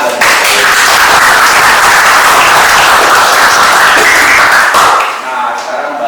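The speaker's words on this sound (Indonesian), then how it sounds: "Tepuk tangan buat saya." Dense, loud applause from a classroom audience at a session on charging batteries with rented power banks, steady clapping for about five seconds before fading abruptly into quieter room noise.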